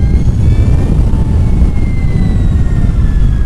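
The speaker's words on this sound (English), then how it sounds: "we'll do a sport mode acceleration run. We're gonna do a rolling start so I don't flip this bike backwards, and we'll roll onto the throttle gradually" Energica Eva Ribelle electric motorcycle in sport mode accelerating hard from a rolling start, a loud continuous rush of wind and road roar with a thin rising electric whine running steadily throughout, no speech.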